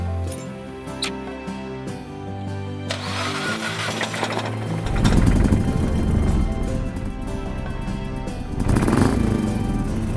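A 2012 Morgan 3 Wheeler cycle car built from motorcycle parts, heard from the seat: engine note rising with transmission whine, bevel box and belt drive, swelling in two strong surges of acceleration with rattly mechanical texture.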